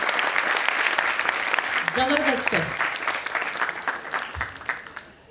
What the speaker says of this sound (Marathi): तुम्ही स्वतःसाठी छान एकदा टाळ्या वाजवा